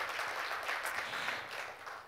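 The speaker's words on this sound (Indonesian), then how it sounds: "Beri tepuk tangan lagi ya buat Yesus Kristus." Church congregation applauding during an online Sunday worship service, a steady wash of many hands clapping together, soft and somewhat distant, with no talking over it.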